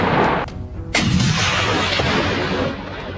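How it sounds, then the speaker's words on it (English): A single loud rifle shot cracks out near the one-second mark during a wild boar hunt in European fields and forests, with a sharp broadband burst over a dense, rumbling outdoor background and no talk. "When he pulls the trigger, the bullet finds its mark dead center."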